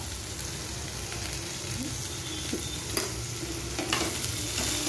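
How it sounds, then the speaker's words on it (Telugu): Onion and tomato fry in a pan for an onion chutney, a soft steady sizzle with occasional stirring clicks and scrapes of a spoon against the pan, fairly quiet and without speech. "బాగా వేగిన తర్వాత"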